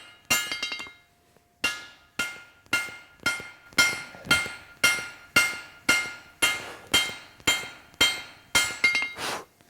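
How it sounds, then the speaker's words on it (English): A hand hammer rings steadily on a steel axe head being forged from old train rail at the anvil. About fifteen sharp, evenly spaced blows come up close, with no talking. "I'm going to do some hand work at the anvil here to start smoothing stuff up"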